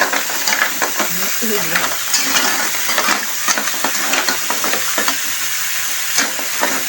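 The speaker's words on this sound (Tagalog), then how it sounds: "Oh, lumalagatok-lagatok. Piniritong lukan." Lokan freshwater clams with lemongrass frying in a pan, a dense crackling sizzle with steady popping and stirring scrapes throughout, close and loud, no talking over it.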